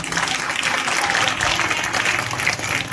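Audience applause at an Urdu poetry book launch event, dense continuous clapping from a crowd, loud and steady throughout with no break.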